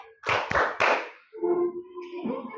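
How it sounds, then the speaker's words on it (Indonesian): A class of schoolchildren doing a clapping chant in a classroom: a few sharp, loud hand claps in quick succession, followed by children's voices chanting. "tepuk anak soleh"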